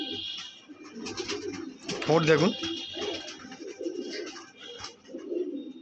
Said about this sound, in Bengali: বন্ধুরা একটা পাঞ্জাবি পায়রা দেখুন